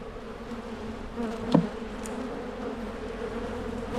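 Honey bees buzz in a dense, continuous drone around an outdoor hive, with a closer bee briefly passing by loudly partway through.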